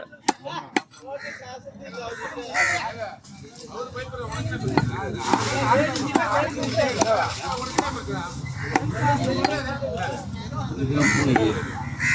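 Crows cawing repeatedly around a fish-cutting stall at a seaside market, with sharp chopping knocks of a blade on fish early on, then busy market chatter and talk layered over the calls.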